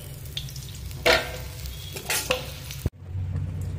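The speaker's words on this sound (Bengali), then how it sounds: "আর একইভাবে বাকি মাছগুলো ভেজে নেব।" Tangra fish fry in hot oil with a low, constant sizzle close by, broken by a few clinks and scrapes of a utensil against the pan and one sharp knock near the end. No speech.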